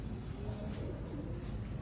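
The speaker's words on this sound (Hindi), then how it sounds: "दोस्तों ये देखो दोस्तों मेरे कबूतर हैं, ये पट्ठा पट्ठी हैं सबके सभी।" Pet pigeons, a mixed group of cocks and hens, coo steadily in a low continuous murmur close by, with a faint whirring hum running underneath.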